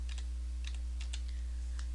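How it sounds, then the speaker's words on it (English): Quick bursts of key presses on a computer keyboard, a handful of light clicks in short clusters over a steady low electrical hum. "here I could just simply type in a tag."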